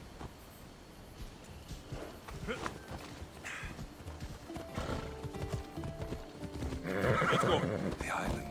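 Horse hooves clip-clop steadily while riding in Assassin's Creed Odyssey, a rhythmic trot with a whinny and the gallop picking up near the end, as characters talk over the hoofbeats.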